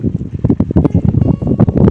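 Wind blows hard outdoors in a farm field around a homemade spinning scarecrow. Strong, close gusts buffet the microphone in a continuous rumbling roar with uneven surges.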